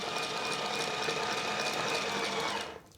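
A Caydo I-cord knitting machine runs at its highest speed, a loud, dense, sewing-machine-like mechanical buzz held steady for nearly three seconds before it stops abruptly.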